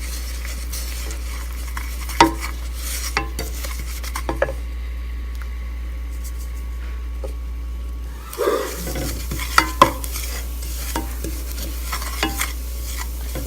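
Dry semolina (suji) for halwa is stirred in a pan over medium heat, with soft, steady scraping and occasional sharper clinks of the spoon against the pan over a low, constant electrical hum.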